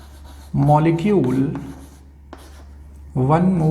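A pen scratches out chemistry notes by hand: soft, close writing strokes in a short quiet gap, mostly under a man's steady spoken explanation.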